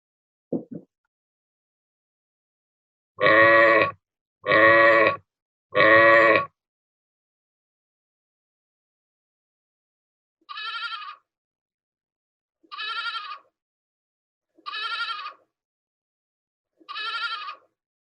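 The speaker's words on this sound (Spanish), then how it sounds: "¿La cabra grande o la cabra pequeña?" Recorded goats bleat in two sets: three loud, deeper bleats from a big goat close together, then after a pause four shorter, higher and quieter bleats from a small goat, evenly spaced with silence between.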